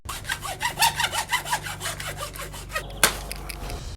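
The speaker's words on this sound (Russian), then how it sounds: "подкладываем фольгу и ножовкой по металлу отрезаем кость" A hacksaw for metal saws through the bone of a roasted 33 kg bull leg laid on foil, with fast, even back-and-forth strokes up close, then a sharp knock near the end.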